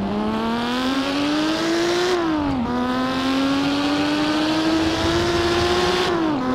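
A Lamborghini Miura P400SV engine in the Assetto Corsa racing game, accelerating hard through the gears with a steady, loud rising drone, one brief drop at an upshift and a slight dip near the end, no talking.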